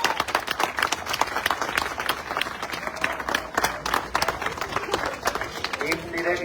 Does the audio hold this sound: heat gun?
no